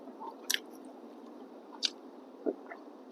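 Someone chews breakfast close to the microphone, with a few soft, isolated bites and crunches spaced out over a quiet background.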